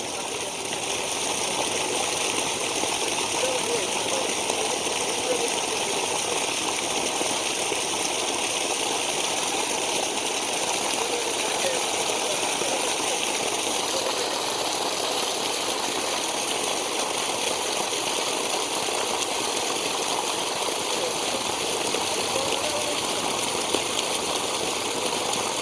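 Tube well pump in Sabah, Malaysia, gushing dirty water in a continuous, steady rushing torrent with a faint mechanical hum underneath, unbroken for the whole stretch.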